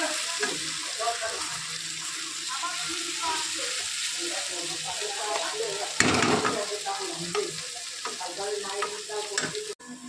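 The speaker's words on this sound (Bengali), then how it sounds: "তো এখন আমি কালো জিরেটা আমি দিয়ে দিলাম। দেখো কালো জিরে আর রসুন ফোড়ন দিয়ে করলে কিন্তু খুবই সুন্দর হয় খেতে জিনিসটা।" Black cumin and garlic tempering in hot oil, a soft crackling sizzle with scraping stir strokes, a louder burst of clatter midway, and faint background voices.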